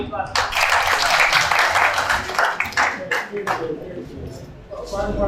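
An audience at an Urdu poetry mushaira applauds, a dense burst of clapping that swells, then thins out and fades into scattered claps with some voices mixed in.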